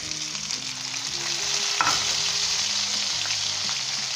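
Potato and cauliflower curry (aloo gobi) fries in a pan with a steady, close sizzle as it is stirred, with one sharper utensil knock partway through and soft music underneath.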